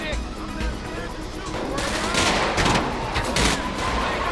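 Machine gun fire rattles in the video game GTA 5 near a light armored vehicle at a military base, a dense continuous stream of rapid shots that grows louder partway through.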